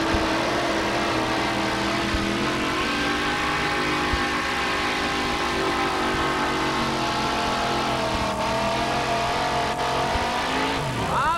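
A two-wheel-drive pulling truck at a 1989 NTPA sled pull in Atco, New Jersey, its engine held at a loud, steady high rev for the whole run, then pitch dropping sharply at the end.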